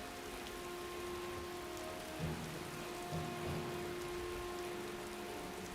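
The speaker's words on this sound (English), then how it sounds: "It's raining again." Rain falls steadily in the video game Skyrim, a constant even hiss of drops with a faint low hum beneath and no talking, quiet throughout.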